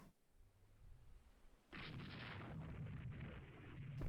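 In the naval strategy game Rule the Waves 3, three battleships open fire on a light cruiser: a quiet low rumble gives way to a sudden, sustained, booming roar of heavy gunfire that keeps building.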